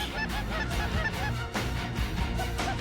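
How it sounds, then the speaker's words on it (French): Canada geese on final approach over a hunting spread at Lac Saint-Jean honk continuously and loudly, with a hunter's goose calls blending into the dense layered chorus. "Les appels d'Alexis s'unissent avec ceux des bernaches en approche finale."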